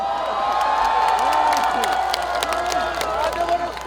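A concert audience at a festival in Sangju, cheering and shouting in a loud, sustained swell of many voices with whoops rising over the din, near and enveloping throughout.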